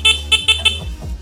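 A motorcycle horn with two horns, wired to a battery fitted with an added capacitor, gives four short loud honks in a quick rhythm, recorded up close.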